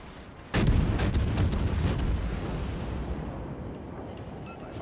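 Naval guns firing high-explosive shells in the World of Warships game, a sudden heavy boom followed by rapid overlapping blasts and a long rumbling decay, loud and close.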